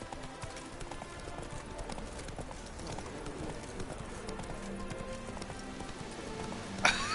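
A horse gallops in The Witcher 3: Wild Hunt on PS4, its hoofbeats pounding in a fast, steady rhythm throughout, with a soft rain-like wash of game ambience underneath.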